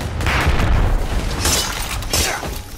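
A frag grenade goes off in the video game Predator Hunting Grounds, making a loud, close, rumbling blast with a crackling burst of debris. The noise swells again toward the end.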